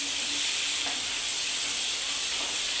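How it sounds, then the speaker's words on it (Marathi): Garlic frying in a spoonful of oil with mustard seeds and cumin makes a steady, close, fizzing sizzle with no pause and no voices. "लसूण हा ब्राऊन होईपर्यंत आपल्याला तळून घ्यायचा आहे."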